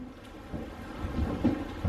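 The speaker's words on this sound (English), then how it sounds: "Yeah, it's raining" Rain with low rumbling thunder, a soft continuous patter under a muffled, rolling boom that swells toward the end, fairly faint and distant.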